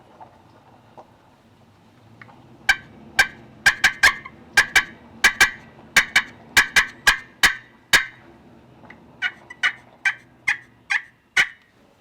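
A wild turkey gobbler gobbles again and again, loud and close, in tight clusters of sharp rattling bursts with short pauses between groups and no voices.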